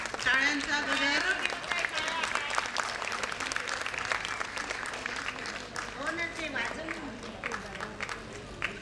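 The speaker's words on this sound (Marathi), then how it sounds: "टाळ्यांचा गजर." Applause at a national environmental conference: a sustained crowd clapping fills the room while a voice talks over it, the clapping staying loud and even throughout.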